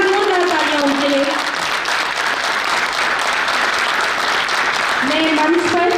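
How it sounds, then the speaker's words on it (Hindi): An audience applauds cast and crew at a theatre play staging of Samrat Ashok, a continuous dense roar of clapping lasting several seconds, with a voice speaking over the start and end. "एक बार जोरदार तालियां उनके लिए"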